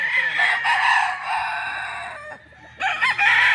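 A Gilmore Hatch gamefowl rooster crows nearby, loud and drawn out, with a brief dip before a second strong burst at the end.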